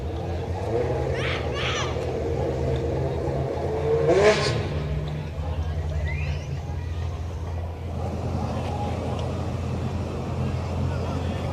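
A Dodge Durango revs and accelerates at a street-night drag strip, the engine drone rising and falling under crowd babble and nearby voices, moderately loud and fairly close.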